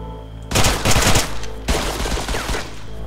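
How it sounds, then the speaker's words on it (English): Gunfire in the video game Wasteland comes as a loud burst of rapid shots at close range, then a brief pause and a second flurry of overlapping reports. "That's a pistol"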